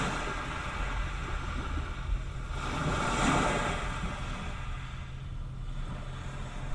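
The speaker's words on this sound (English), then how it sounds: "and then we have Calm Sea Waves." Calm sea waves ambience played through the Bose 8-speaker system in a 2022 Hyundai Tucson: a steady, soft wash of surf noise that swells gently near the middle, with no voices.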